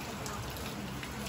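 Rain during a typhoon falls as a steady, dense hiss of drops on surfaces, continuous and fairly close for a short moment with no clear voices.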